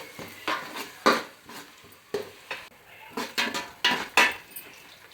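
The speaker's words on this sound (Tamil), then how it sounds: "நல்லா கொஞ்சம் கோல்டன் ப்ரௌன் வர்ற அளவுக்கு வதக்கிக்கோங்க." Sautéing ingredients in a pan for semiya kichadi until golden brown, with soft sizzling under repeated scraping stirs of a utensil against the pan, close and moderately loud, no talking.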